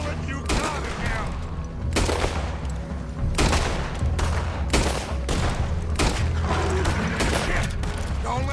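Heavy gunfire from a Red Dead Redemption II gunfight, with loud repeated volleys of shots across the whole stretch, some spaced and some overlapping, under steady rumbling background noise.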